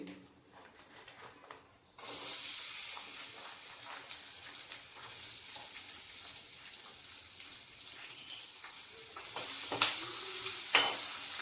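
Hot oil in a pan bursts into a loud crackling sizzle after a quiet start, then fizzes steadily with scattered pops and a few scraping clicks, close up and without speech.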